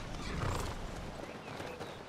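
Horse hooves clip-clop steadily in the video game Skyrim, a soft continuous trotting beat under a broad outdoor hiss, with no one talking.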